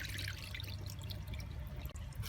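Water pours and trickles out of the drain filter of a flooded Beko washing machine, a close, continuous splashing flow with small drips over it.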